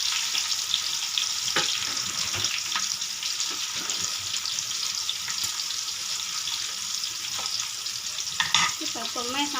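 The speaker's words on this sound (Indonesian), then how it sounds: "Kita tumis sampai harum" Spices sauté in hot oil with a constant fine sizzle, broken by occasional spatula scrapes and taps, fairly quiet and unaccompanied by speech.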